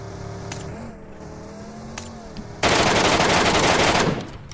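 Rapid machine-gun fire erupts in a shooter video game, a loud continuous burst lasting over a second after quieter background game sounds, with a vehicle engine faintly present.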